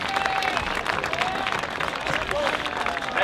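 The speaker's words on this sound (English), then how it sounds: "How about a big round of applause for Assumption" Crowd at a high school football game at Assumption High applauding the Assumption football team and tennis seniors, with continuous clapping amid cheering and voices spread across the stands.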